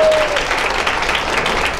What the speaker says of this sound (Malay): Berikan tepukan kepada anda semua.